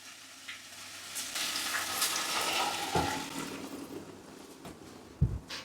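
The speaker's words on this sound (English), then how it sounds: "We'll stir them through for a minute." Diced potatoes sizzling in a frying pan while being stirred, a steady crackling hiss with soft scraping and a clunk of the utensil near the end.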